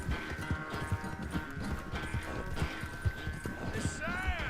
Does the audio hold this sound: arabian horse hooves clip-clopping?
yes